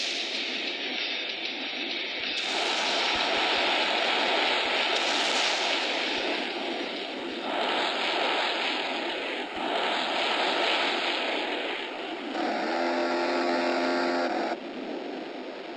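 A propeller airplane engine in a sea-mission combat video game, a steady loud drone that swells and shifts in pitch as the aircraft passes, with a helicopter nearby and no talking.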